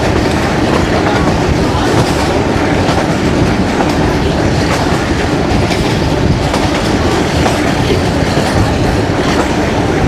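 The Kohat Express, heard on board between Rawalpindi and Kohat in Pakistan, rumbles loudly along the rails, wheels clattering in a steady rhythm, with a constant heavy roar throughout.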